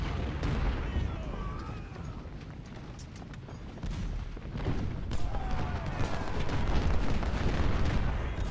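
Massed artillery and rifle fire from the Civil War strategy game Ultimate General: Civil War at Antietam, a dense continuous rumble of booms and crackling volleys that swells louder in the second half, with no clear talk.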